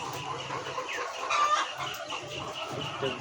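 White layer hens on a poultry farm cluck and murmur continuously at moderate loudness, their calls overlapping into a dense flock chorus, with a faint crow and a brief murmur of speech in the background.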